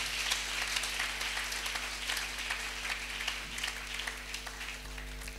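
A church congregation at a Sunday worship service applauds the Lord in sustained, dense clapping with scattered cheers, steady and loud throughout with a low hum underneath.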